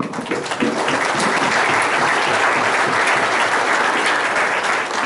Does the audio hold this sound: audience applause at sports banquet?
yes